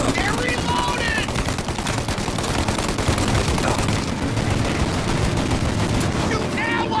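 Heavy gunfire in the Mafia video game, with rapid bursts of machine-gun fire and overlapping shots that rattle almost nonstop during a shootout, while voices shout over the din.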